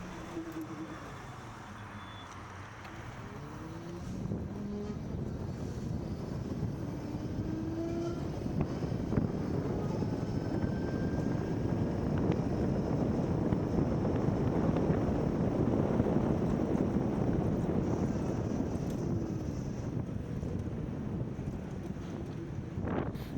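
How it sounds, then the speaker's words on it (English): A 2020 Zero SR/S electric motorcycle rides through town with a steady whirring motor whine, rushing wind noise and passing road traffic, continuous and fairly loud throughout. "you can hear the sound of the bike riding in town"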